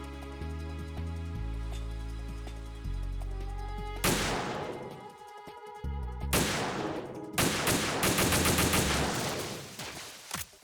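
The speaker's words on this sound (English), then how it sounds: "I'll provide support fire from here." Sniper support gunfire in the Metal Gear Solid 2 video game: loud, sharp bursts of shots ring out over a low droning game soundtrack, with a heavy volley near the middle and denser firing toward the end.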